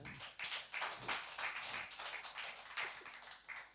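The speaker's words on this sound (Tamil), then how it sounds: "நல்லா கைத்தட்டுங்க." An audience at a Tamil patti mandram debate claps in a hall, giving a faint, steady patter of many hands with no voices over it.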